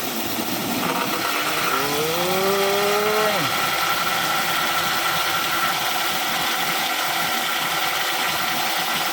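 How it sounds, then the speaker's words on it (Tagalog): A mini hydro turbine drives a dynamo at a farm in the mountains of Brgy. Oras, giving a steady rushing roar with a whining tone that climbs and then drops away early on. "dahil dun sa turbina gumana na itong ano niya dinamo"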